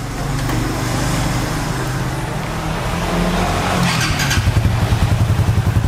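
Motorcycle exhaust fitted with a Smoke muffler, its stock dB killer installed at the tip and a honeycomb insert, idling steadily with a deep, close, continuous rumble that shifts into a pulsing, chopped beat near the end.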